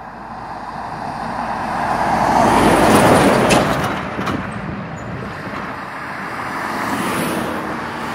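Vehicles rush past on an international motorway across a plain on a July day, a broad rising and falling whoosh peaking midway, with a second fainter pass near the end and no talk.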